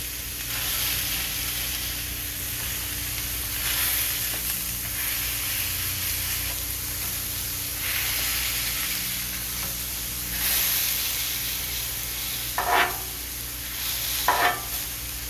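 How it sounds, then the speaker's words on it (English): Mexican pork burgers frying in a hot pan, a continuous close sizzle and hiss with occasional brief louder crackles and spatters toward the end. "Hear that beautiful sizzle?"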